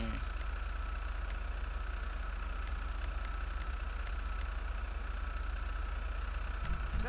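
A car engine idles steadily in Grand Theft Auto V, Trevor's vehicle rumbling in a low, constant drone with faint scattered ticks throughout and no voices.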